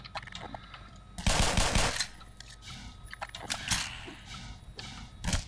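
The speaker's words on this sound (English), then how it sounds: "Gunshot, yeah." Repeated gunfire bursts from the first-person shooter Black Mesa, loud and close, with a long rattling volley followed by several shorter sharp bursts.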